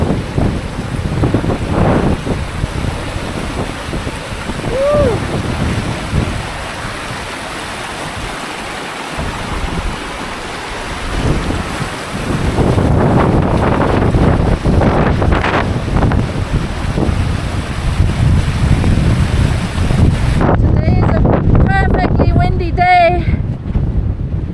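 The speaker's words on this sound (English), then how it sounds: "see the spray coming up. We're actually getting sprayed on it. It's almost like, feels like rain now." Wind-blown spray and rushing water at the Cascada La Invertida waterfall in Argentina, a steady broadband roar with gusty wind buffeting the microphone, loud and close throughout, with brief voices heard underneath.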